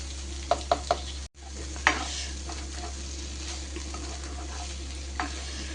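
A pan of onion, tomato and okra (bhindi) stirred with a spoon, a few quick clinks and scrapes at the start, then a low steady sizzle with soft scraping, close by, no voices.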